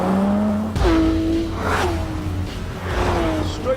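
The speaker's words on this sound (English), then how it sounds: "the engine is incredible. There's no turbocharging, it's just a 4-litre flat 6" A Porsche 911 GT3 RS's naturally aspirated 4-litre flat-six engine revs hard and accelerates loudly, the pitch climbing and dropping through gear changes, close and continuous.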